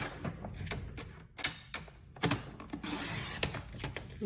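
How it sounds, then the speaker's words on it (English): A paper trimmer slides and cuts a sheet of Daisy-patterned designer paper, with soft clicks and a brief rasping swipe of the blade in a quiet room, close up and fairly faint. "So let me pull in my paper trimmer here. And so we are going to cut this."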